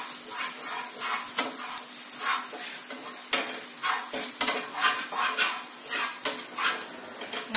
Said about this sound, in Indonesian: Aduk-aduk bawang putih agar tidak gosong dan matangnya matang